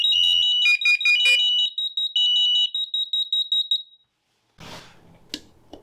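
Interlinked smoke and fire alarms sound during a button test on a Hestia control panel system, giving loud, piercing, rapid high beeps for about four seconds, then falling silent before some clicking and handling noise.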